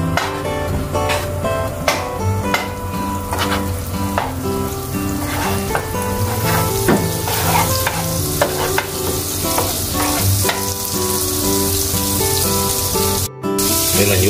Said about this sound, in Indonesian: Dan kasih mentega dikit. Biar agak meleleh dulu.